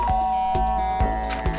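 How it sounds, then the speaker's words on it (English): A doorbell chimes in the Danganronpa video game, a sustained electronic tone ringing over a repeating rhythmic musical beat, close and fairly loud. "Guess you just press the doorbell"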